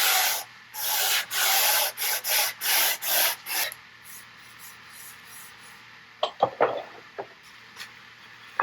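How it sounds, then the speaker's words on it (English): Sandpaper lightly worked by hand over wooden table legs and aprons, a series of loud rhythmic rubbing strokes at first, then softer scattered scrapes and taps after a pause. "lightly sand the surfaces of the legs and the aprons"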